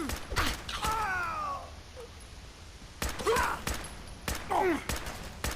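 Gunfire in Fallout 4, sharp broadband shots in a rapid fusillade, bursts near the start and again in the second half, with whistling, groaning tones between the shots.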